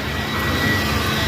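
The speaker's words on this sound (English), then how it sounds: "And you kick on your blower" A reefer semi trailer's blower runs steadily, a loud, continuous broadband roar with a low hum, close and unbroken with no talk.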